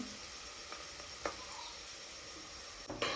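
Onions frying in a pan while a pulao is cooked, a faint, steady hiss of sizzling oil with a few soft clicks and a louder stirring scrape near the end, heard close with no voices.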